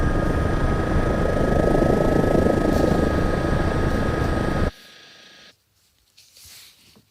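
Loud, dense engine roar of an aircraft in the Aerofly FS 2022 flight simulator, steady for several seconds before cutting off abruptly, followed by faint quiet noises.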